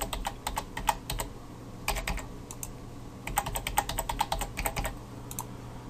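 Rapid keystrokes on a computer keyboard while a password is entered, coming in quick bursts of clicks separated by short pauses, close and clear over a steady low hum.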